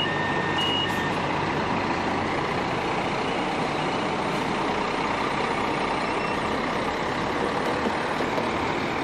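A truck pulls out of a roadside fuel depot, a loud steady diesel engine rumble with broadband road and traffic noise throughout, with no voices.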